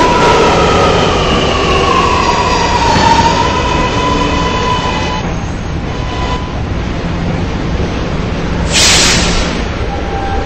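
An R211P subway car runs on the R line out of Myrtle Avenue with a loud, continuous rumble and a whining tonal hum throughout, and a brief high burst near the end.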